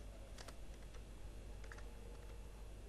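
Typing on a computer keyboard while writing code, a few soft key taps spread sparsely over a steady low background hum, quiet and close.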